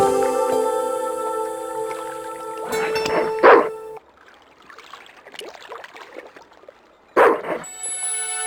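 Dog barking in the point-and-click adventure game Broken Sword 2, two short bursts of barks standing out over steady game music and ambient sound, with a quieter watery stretch between them.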